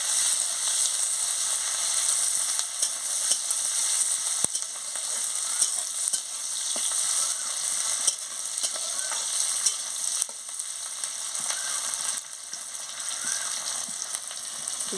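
Onion fries in a pan with a steady, even sizzle and crackle that runs without a break, close by and alone with no voices.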